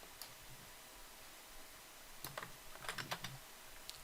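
Code is typed on a computer keyboard in quiet, sparse clicks at first, then a quicker cluster of keystrokes, faint and close against a soft background hiss.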